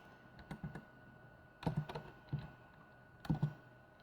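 Keys clacking on a Sinclair ZX Spectrum keyboard as a short command is entered, with three brief bursts of quick, close taps separated by short pauses.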